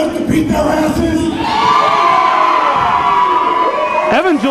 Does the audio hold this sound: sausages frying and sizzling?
no